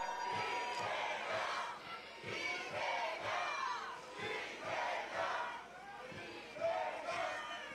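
A large outdoor crowd at a rainy presidential campaign rally in Gwangyang roars and chants in rising and falling waves, loud and continuous, with scattered shouts throughout.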